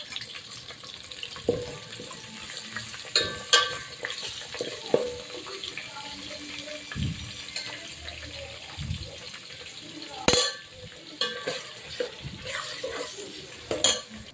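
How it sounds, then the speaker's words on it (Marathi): Onions fry in a pan for chicken dum biryani with a soft, low sizzle. Intermittent spoon knocks and scraping clatter recur irregularly throughout, fairly quiet and close. "आता मी याच्यामध्ये कांदा घालून घेत आहे याला भाजून घ्यायचं आपल्याला लाल होसपर"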